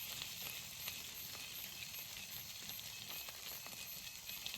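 Fish, a large mackerel, frying in oil in a pan over a campfire by a riverside in the jungle, giving a steady, dense sizzle with faint crackles that holds evenly throughout at moderate level, without any talk.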